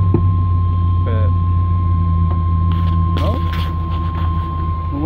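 A car engine idling after a throttle body spacer install, a steady low hum with a constant tone over it, close and loud throughout, with brief faint voice fragments.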